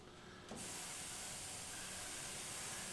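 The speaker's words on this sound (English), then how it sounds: "I'll be spraying through it and also moving it to create a softer texture" A steady airbrush hiss starts after a brief quiet moment and keeps spraying evenly through a stencil template while painting a skull, close and continuous.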